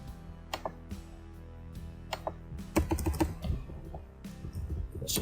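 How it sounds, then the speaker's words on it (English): Typing on a computer keyboard, quick bursts of close, crisp key clicks with short pauses between them, then a denser run of rapid strokes. "let's just type it down here"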